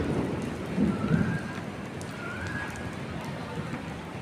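Steady rain falls in a continuous soft hiss, with a brief low murmur near the start and a couple of faint thin tones drifting over it.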